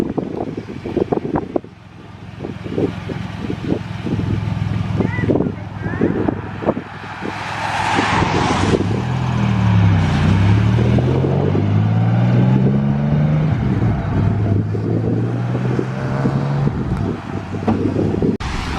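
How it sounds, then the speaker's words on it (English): A TVR Tuscan sports car pulls away from a classic car show in rain and wind, its engine note rising and swelling loud and close before easing off, with wind buffeting the microphone throughout. "Looks like we got a TVR Tuscan leaving."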